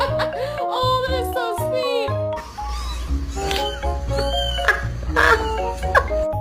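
A cat indoors on new carpet gives several short, rising meows in quick succession, close and fairly clear, followed by quieter scattered mews and a little soft chatter in the room.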